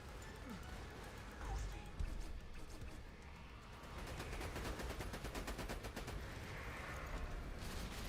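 Gunfire against a raid boss in the Borderlands 2 video game, sustained rapid automatic shooting, steady and fairly close, with a voice talking over it.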